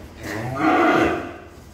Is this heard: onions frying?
no